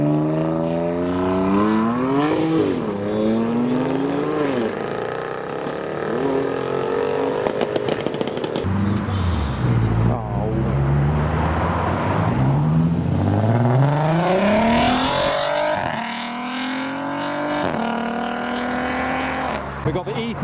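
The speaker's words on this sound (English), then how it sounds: "the M4's coming down quite hot" A BMW M4 accelerates hard as it leaves a car show, its engine note rising and falling through gear changes amid other passing cars, with crowd voices underneath.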